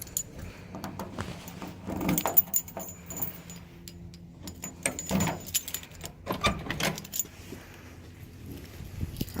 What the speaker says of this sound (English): Appears I have a set of keys.